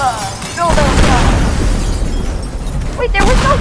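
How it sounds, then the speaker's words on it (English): An explosion in the video game Teardown booms out as a deep, rumbling blast with crackling debris, loud and close, while someone talks over it. "Well, ooh, a noble explosion."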